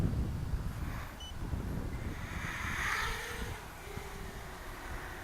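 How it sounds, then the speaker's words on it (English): Wind buffets a microphone outdoors during a small FPV drone flight, a soft broad rushing that swells and eases over a few seconds, fairly faint with no talking. "It's a little bit of a wind."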